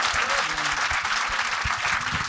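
A studio audience claps together through the whole stretch, a dense, loud and continuous patter of hands with no voices over it.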